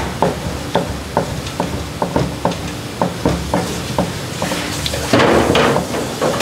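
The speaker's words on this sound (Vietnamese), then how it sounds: "Mình sẽ băm nhuyễn ra." Knife chopping and mincing pork on a cutting board in a home kitchen, a steady series of sharp, close thuds in an even rhythm, with a heavier clatter toward the end.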